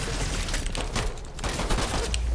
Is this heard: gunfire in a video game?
yes